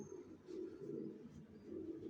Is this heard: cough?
no